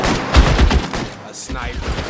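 Gunfire in LA Noire, a rapid cluster of close, sharp cracks from a sniper and other guns, followed by a short lull and more shots, under some talk.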